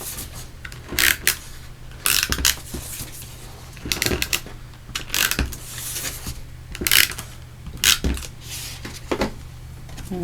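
A snail tape runner lays adhesive across a stamped card, giving short repeated scratchy clicks and rasps in bursts over a low steady background hum, close and fairly loud.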